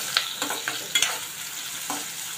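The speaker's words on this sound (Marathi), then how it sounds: "आता ही फोडणी ना चांगली परतून घ्यायची" Chilli pieces and curry leaves sauté in hot oil for a Konkani-style black chana masala, with a continuous sizzle broken by several sharp spatula scrapes and clinks against the pan.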